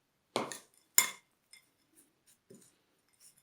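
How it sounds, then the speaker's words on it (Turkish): Two bright clinks of a spoon against a glass bowl while hazelnuts are stirred into crushed baby biscuits, followed by a few faint scattered taps and scrapes in an otherwise quiet kitchen. "Şimdi çektiğimiz bebe bisküvisinin üstüne fındıklarımızı koyuyoruz. Karıştırıyoruz."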